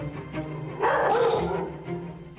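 An aggressive Jindo dog barks at a stranger, with a single loud, harsh bark near the middle framed by low growling and restless noise, close by.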